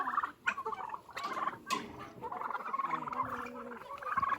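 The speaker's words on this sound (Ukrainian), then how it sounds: "А де простий індик?" A farmyard turkey gobbles in rapid, rattling bursts, moderately near and fairly quiet, without speech over it.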